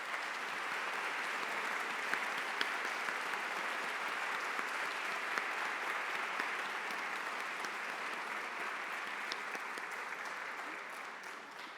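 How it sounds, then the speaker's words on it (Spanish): Sustained, even applause from a large audience at a university honorary doctorate ceremony for former president Michelle Bachelet, a dense continuous clapping wash that holds steady for about twelve seconds and fades slightly at the end. "Y por eso pido un fuerte aplauso para"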